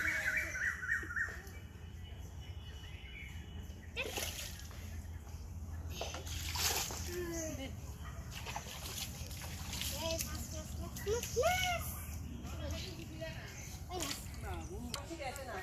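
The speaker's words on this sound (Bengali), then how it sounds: "আমি আজকে এই পুকুরে গোসল করছি সাঁতার কাটছি" Water splashes and sloshes as someone swims and bathes in a village pond, with intermittent close splashes and dribbling, birds chirping in the background and voices talking throughout.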